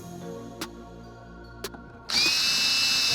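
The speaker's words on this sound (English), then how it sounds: "I then clamped it down, then drilled and tapped the holes." Power drill bores holes into a steel ladder plate for an overland vehicle: a couple of faint clicks, then the motor whines up suddenly and runs loud and steady, close by.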